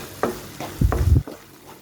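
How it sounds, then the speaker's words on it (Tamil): A spoon stirs sautéed okra pachadi with grated coconut and chopped coriander in a pan, giving a few scraping strokes and a brief sizzling rustle, close and alone. "கூடவே நறுக்கின கொத்தமல்லியிலையும் சேர்த்து நான் மிக்ஸ் பண்ணிக்கலாம்."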